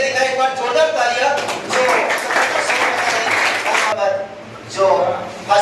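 Applause from a gathered audience honouring newly selected coaching students, a burst of clapping mixed with a voice speaking over it, fairly loud and close, fading briefly before rising again.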